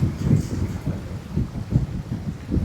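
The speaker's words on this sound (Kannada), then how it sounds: "ಎಷ್ಟು ಚೆನ್ನಾಗಿ ಗಾಳಿ ಬರ್ತಾ ಇದೆ" Wind buffets the microphone in low rumbling gusts on a boat, rising and falling in rhythmic waves, with faint water motion underneath.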